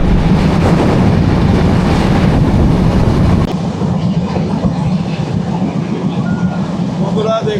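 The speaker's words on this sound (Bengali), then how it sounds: "প্রচণ্ড ঝড়ের গতিতে ট্রেনটি যাচ্ছে, প্রায় 95-90 স্পিডে যাচ্ছি আমরা।" The Sundarban Express passenger train speeds along at around 90 to 95 km/h, producing a loud, constant roar and rumble that grows somewhat quieter partway through as the carriage noise shifts.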